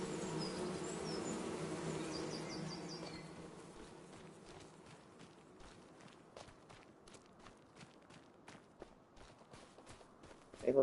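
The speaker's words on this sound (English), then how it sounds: "Oh, we do have bees." Bees buzz steadily in a Farming Simulator 25 farm scene, a busy droning hum for the first few seconds that then fades under soft repeated footsteps.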